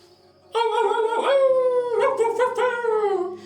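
Dogs howling together in a drawn-out, wavering chorus with yips and whimpers, loud and close, starting abruptly and continuing without pause, no talking over it.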